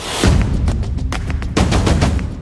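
Gunshots ring out as an armed man on foot runs at a man riding a motorcycle in a street shooting. Two volleys of loud, sharp, rapid bangs crack close by, one after the other, with no talk.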